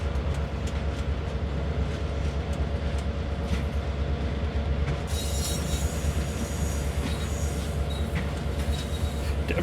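Heavy freight train hauled by an SW1000R switcher locomotive in Train Sim World on the Northeast Corridor, with a steady loud rumble of rolling wagons and wheel squeal rising midway, continuous and close, with no talking.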